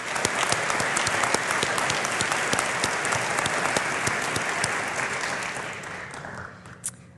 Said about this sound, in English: please join me in giving them a round of applause for a job well done